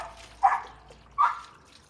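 A small dog at bath time, with two short barks about three-quarters of a second apart, close and fairly loud, over a quiet background with faint trickling water.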